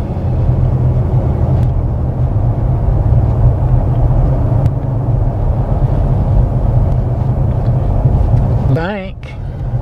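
A car rolls steadily through a small Georgia town, its low engine and road rumble continuous and close from inside the cabin, with a brief squeak near the end; a voice talks over it.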